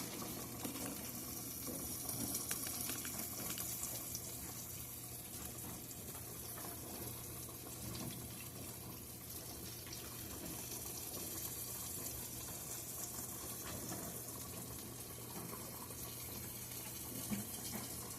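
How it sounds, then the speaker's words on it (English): Steady running water pours continuously, a broad gushing rush like a tap filling a vessel, close and unbroken throughout. "I put a little water in mine because I want them covered up."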